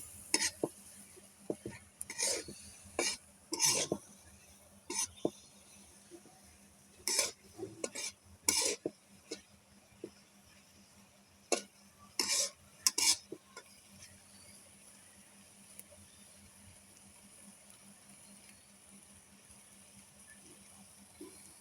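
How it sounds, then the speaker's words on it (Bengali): Food being stirred in a pot on a clay wood-fired stove, with intermittent scraping clinks of the spatula in bursts, then quieter background noise with faint sizzling. "শীতলটাকে দিয়ে ভালো করে নাড়তে হবে।"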